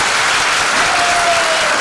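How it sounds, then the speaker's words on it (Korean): Audience applause at a Democratic Party presidential candidate lecture event in a hall, steady dense clapping from a large crowd filling the whole moment, loud and continuous with no voices. "박수 한번 부탁드리겠습니다."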